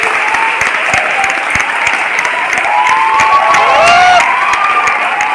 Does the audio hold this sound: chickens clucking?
no